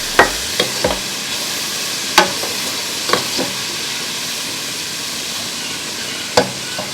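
Chillies hit a hot frying pan for potato bistek, giving a continuous soft sizzle punctuated by several sharp clinks and scrapes of a spoon stirring against the pan, with no talking.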